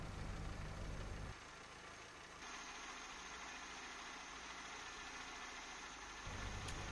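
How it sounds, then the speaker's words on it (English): A Citroën BX idles with its radiator fan running, giving a steady engine hum under a broad, constant whoosh of air. The level shifts a little as the fan kicks in and settles. No one speaks. "As you can hear, the fan is just kicked in"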